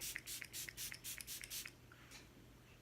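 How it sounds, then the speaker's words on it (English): Face mist sprayed onto the face from a pump bottle: about eight quick, soft hissing spritzes in an even rhythm, close and quiet, followed by near silence. "I'm gonna spray my face one more time."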